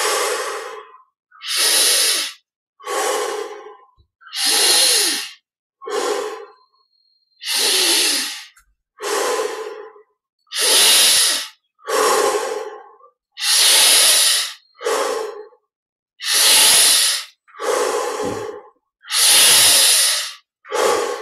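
Deep, slow breaths during a guided yoga meditation, about a dozen long airy inhales and exhales in a steady rhythm with silent pauses between them, close and clear with no talking.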